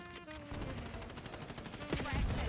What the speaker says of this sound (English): I'm getting shot off spawn.